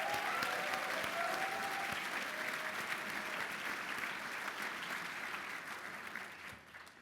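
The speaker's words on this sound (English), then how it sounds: "Can we please give him another round of applause?" An audience at an annual fall brunch breaks into sustained applause, a dense clapping wash from many hands that slowly fades toward the end, with a voice briefly audible at the start.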